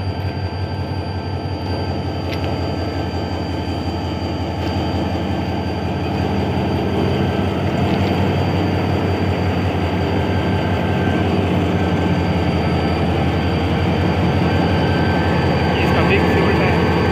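A GMU 30 diesel locomotive hauling a small goods train on a loop line at Sanawan rumbles with a steady, loud, continuous engine drone throughout, a constant low hum without break.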